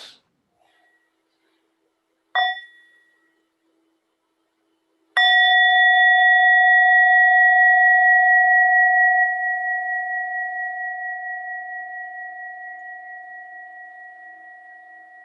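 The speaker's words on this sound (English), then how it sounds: "I'd like to offer a bell to close your talk." A meditation bell is struck twice at the close of an online dharma talk: a brief soft tap, then a loud clear strike that rings on alone with a long sustained, slowly fading tone.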